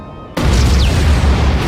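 A cannon or dynamite blast in the Roblox game Build a Boat: one sudden loud boom that rolls into a sustained rumbling burst, heard alone.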